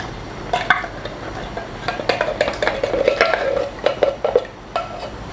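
A spoon stirs tomato sauce with diced tomato, water, oregano and black pepper in a pot on the stove, giving close, irregular scrapes and light clinks against the metal with no talking.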